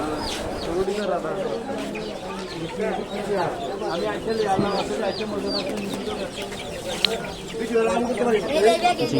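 Chickens cluck and cackle among ducks and pigeons at a busy poultry market in Savar, a continuous nearby chorus of fowl mixed with people talking.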